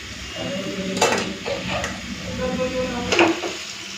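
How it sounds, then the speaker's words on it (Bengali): Spinach going into a pot of boiled dal, with soft stirring, faint sizzling and a few clinks of utensil against the pot, under a steady background hum. "তো এই যে ডালটা ভালো মতো সেদ্ধ হয়ে গেছে এখন এই পালং শাকগুলো দিয়ে দিচ্ছি"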